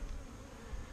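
Honey bees hum in a steady, dense buzz close around a wooden hive box in a garden, soft and continuous with no voices.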